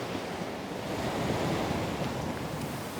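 Sea waves crash steadily onto the shore on a crab-hunting outing, a continuous broadband roar of surf mixed with gusty wind buffeting the microphone, loud and close with no voices.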